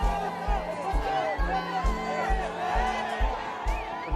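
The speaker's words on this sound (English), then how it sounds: "when you get a crowd like this and they go as crazy as this, I mean, you can hear them now in the background" A large festival crowd at a Red Bull show in the Zocalo, Mexico City, with a steady roar of cheering and chatter under a pounding bass beat with regular thumps.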